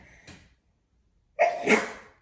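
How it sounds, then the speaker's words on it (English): A single sharp sneeze bursts out loudly up close after a short stretch of near silence, preceded by a faint breathy sound. "I got to sneeze"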